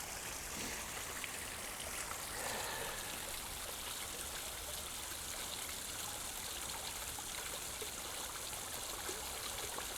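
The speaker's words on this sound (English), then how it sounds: "Take, for example, the waterfall over here." A waterfall in a video game flows steadily, a dense, even rush of water that holds at the same level throughout without pause.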